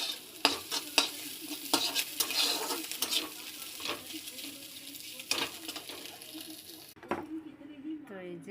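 Egg bhurji scraped and stirred into Maggi noodles in a pan with the gas off, a close run of clinking spoon-on-pan stirs and soft scraping, ending in a quieter stretch.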